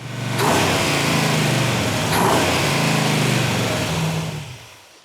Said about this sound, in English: as quick as you hit that throttle, it revs